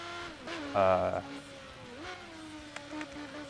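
Motorbike engine in the Burnout racing video game, a steady whining drone with a short louder rev burst near the start and traffic-like whooshes, while someone talks over it.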